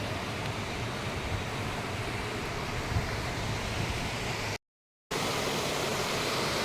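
Clear river water rushing among rocks, a steady broadband wash with no other sounds, broken by a brief total dropout partway through.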